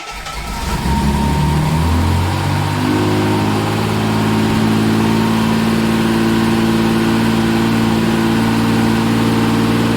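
A Reliant Scimitar GTE SE6A engine catches after a short crank with too much choke, then settles into a loud, steady, rich-sounding idle that holds without talk.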